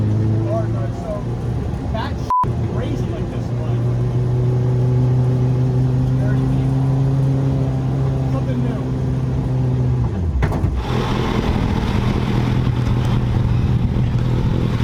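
A Hayabusa-swapped Suzuki Swift accelerates hard, its engine note loud and close, with a strong droning tone that holds and climbs before the car shifts and settles.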